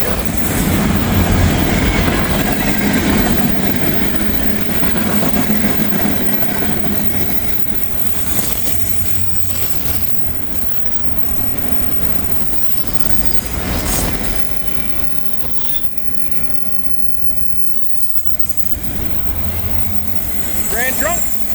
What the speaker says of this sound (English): There goes an oil tanker.